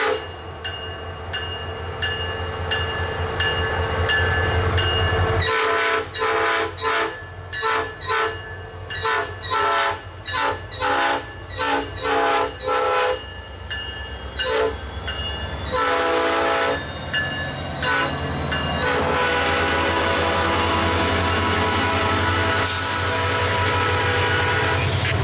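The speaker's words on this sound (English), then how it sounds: "Here we see Loco 105 making a departure from the station with a nice horn show from its rather nice P5" SunRail locomotive 105 departs Meadowood Station, its P5 horn sounding in a long sustained blast, then a rapid run of short stuttering blasts, then another long blast, loud and close over the engine's steady low rumble.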